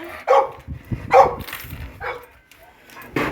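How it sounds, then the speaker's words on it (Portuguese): A pit bull barks in a few short, loud bursts close by, with pauses between and a final bark near the end. "Pronto, então essa é a minha pitbull."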